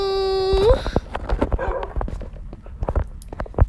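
A dog in Minecraft gives a high, thin whimper at the start, followed by a run of short whiny yelps and soft clicks. The sounds are close and fairly loud.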